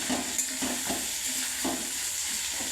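Ginger, garlic and spices frying in a pan for chilli chicken, a steady sizzle with periodic scraping stirs of a utensil against the pan.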